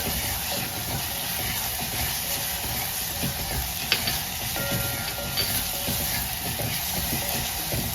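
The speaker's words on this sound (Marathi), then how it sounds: "आता त्याच्यात मी आलं आणि लसूण घालते। हे जरा तुपात चांगलं परतवून घेते" Ginger and garlic sautéing in ghee after tomatoes, a steady, dense sizzle and crackle that holds evenly throughout, with a faint stray clink of a utensil.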